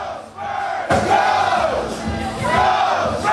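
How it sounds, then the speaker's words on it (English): Dense crowd noise from a Spurs watch party on a pub rooftop, loud and continuous, with rising cheers and shouting swelling in waves over the constant roar of many voices. "Just take a look at this crowd at the roof."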